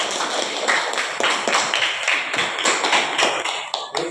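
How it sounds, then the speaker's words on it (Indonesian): A class clapping hands, a dense, steady patter of many close hand claps with no talking over it. "Tepuk tangan."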